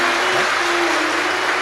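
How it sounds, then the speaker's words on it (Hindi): Audience applause at a Hindu religious katha gathering in Jalgaon: dense, steady clapping from a large crowd throughout, loud and continuous without pause. "जोरदार ताली बजाओ"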